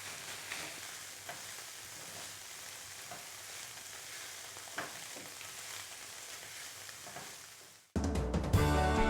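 Eggs sizzling and frying in a pan, a steady bright crackle with occasional stirring scrapes, constant for several seconds before a louder, different sound cuts in at the end.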